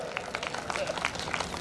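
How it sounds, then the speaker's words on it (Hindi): Crowd claps to welcome Acharya Muni Satyajit at an Arya Samaj Gurukul festival in 2023, a short burst of dense, scattered applause from a large audience. "जोरदार तालियों से स्वागत करें"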